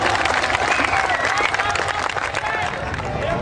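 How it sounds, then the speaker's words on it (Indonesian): A large audience at a public discussion forum breaks into dense, sustained applause, a loud continuous wash of clapping with crowd murmur mixed in throughout. "Tepuk tangan."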